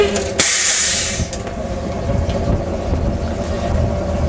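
A 1977 Superior/Ford B-700 bus engine runs close by: a loud hissing burst of air or steam at the start gives way to a steady mid-pitched engine idle, with no speech.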